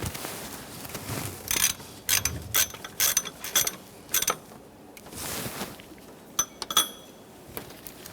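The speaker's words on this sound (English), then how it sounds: "With each of these mounting bolts started in, we can start snugging them up." Ratchet wrench snugging the water pump mounting bolts on a 2011-2020 Toyota Sienna 3.5L V6, heard as close, loud bursts of rapid clicking separated by short pauses, with occasional metallic clinks between the bursts.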